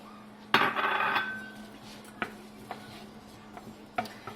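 Peppers dropped into an oiled pan with onions, a sharp clatter and rustle followed by a few scattered scrapes and taps of stirring under a faint steady hum.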